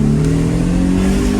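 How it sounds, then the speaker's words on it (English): A V6 car engine breathing through a custom factory AMG exhaust, on an older German luxury coupe, holds a loud, steady rev with a strong low drone throughout. "Now this car has a custom AMG exhaust from the factory, which allows this V6 engine to breathe a little bit nicer."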